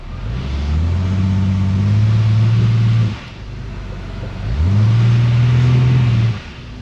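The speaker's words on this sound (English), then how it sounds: "Starts to misfire pretty bad when I really put a good load on it." A car engine revs hard twice under heavy load, each surge a loud, strained drone that rises and holds before dropping, with a rough, uneven misfiring character.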